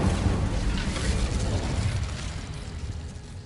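Casting the Incendio fire spell in Hogwarts Legacy unleashes a loud, roaring burst of flame that fills the space at once, then slowly fades over a few seconds.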